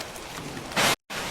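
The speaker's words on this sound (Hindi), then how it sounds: "अचानक बारिश तूफान आ गई और पूरा बारिश होने लगा।" Heavy rain roars steadily in a cartoon storm. It surges into a loud, bright gust, drops out for a brief silent gap, then the downpour resumes.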